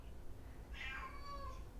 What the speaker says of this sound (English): I don't know if you're going to hear Evie meowing in the background